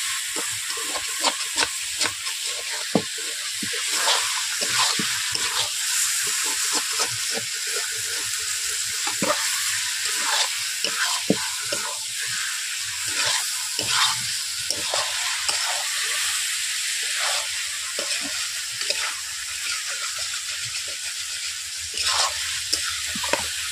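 Chicken fries and is stirred in a pan for Bengali chicken korma, a continuous close sizzle and hiss broken by frequent scraping stirs, with no talking throughout.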